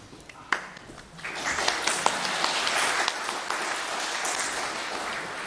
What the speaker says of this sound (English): applause for Nate